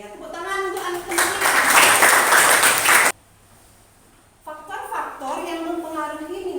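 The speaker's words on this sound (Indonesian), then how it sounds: "ya tepuk tangan untuk anak-anak" Children in a classroom lesson break into a two-second burst of dense hand clapping, followed by a pause and then voices talking.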